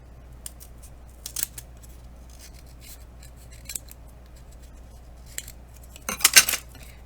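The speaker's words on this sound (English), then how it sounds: "I'm just going to trim a little bit off of here and a little bit off at the top" Scissors trim small snips along the edge of a mini Christmas book ornament, faint, quiet cuts scattered through a low room hum and ending in a closer flurry of several quick snips.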